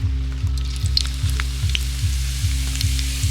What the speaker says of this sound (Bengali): এবার ওই তেলের মধ্যে আমি দিয়ে দেব গোটা জিরে